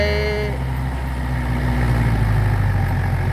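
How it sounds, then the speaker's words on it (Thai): A farm tractor's diesel engine runs and idles nearby, a steady low rumble with a brief higher whine early on, loud and continuous throughout. "ดูรถไถทำงานรอไปก่อนครับ"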